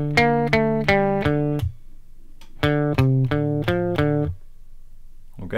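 An electric guitar plays the opening riff of a song with the first and second parts joined. Two short runs of plucked, distorted notes are separated by a brief pause, with no talking.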